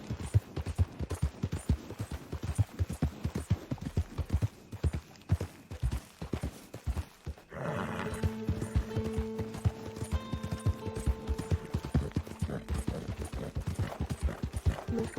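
Horse hooves clip-clopping in a steady trotting rhythm in the video game Red Dead Redemption 2, close and prominent, followed by a shift to a sustained tonal game sound with the hoofbeats continuing beneath it.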